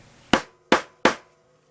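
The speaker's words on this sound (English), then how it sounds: "take my punch for installing the copper rivets, put it on top," Hammer striking a punch to set copper rivets in leather: three sharp, evenly spaced metallic blows, close and clear, each decaying quickly into quiet.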